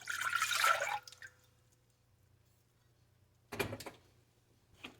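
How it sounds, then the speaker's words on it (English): Elderberry juice poured into a pot in a home kitchen, a near liquid pour of about one second, then quiet hum and a brief clatter with a short knock at the end. "go ahead and pour your juice in a pot"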